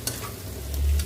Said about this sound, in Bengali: এবার এটাকে মিশিয়ে নেবো।